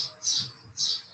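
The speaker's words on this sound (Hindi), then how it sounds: "चिड़िया की आवाज आ रही, तो मैं क्या करूँ" Birds near an indoor spot in hot Mumbai give two bright, shrill chirping bursts, fairly close and clear, separated by a short pause over faint background hum.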